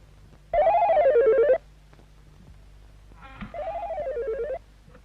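An old telephone rings in two long warbling bursts separated by a pause, loud and close in a quiet room.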